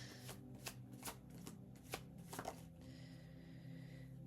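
A tarot card deck is shuffled in several quick riffling bursts, close and fairly quiet, with a steady low background hum and no talking.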